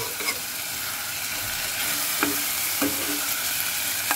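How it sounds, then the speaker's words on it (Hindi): Spices fry and sizzle in a granite-coated aluminium pan, a close, steady hiss with occasional scraping stirs and no speech. "और ये देखें बर्तन में जब लगने लगे तो समझो हमारे मसाले भुन गए"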